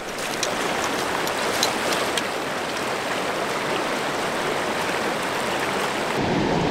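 Flowing water of a local stream, a continuous close babble and splash with bright trickling detail, steady and uninterrupted, no one speaking.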